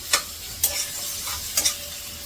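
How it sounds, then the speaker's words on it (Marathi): Boiled potato pieces are sautéed in a pan, with a few quick, close scraping stirs over a soft, steady sizzle. "हा उकडलेला बटाटा फ्रीजमध्ये होता तर मी हा कापून घेतला हा थोडासा परतून घेते"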